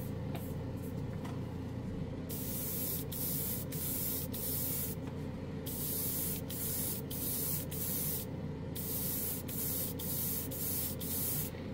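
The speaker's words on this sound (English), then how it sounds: "This airbrush of mine seems to push a lot of paint out pretty easily" An airbrush sprays acrylic paint in a steady, close hiss, with brief breaks as the trigger is released and pressed again in repeated short bursts over a constant low compressor drone.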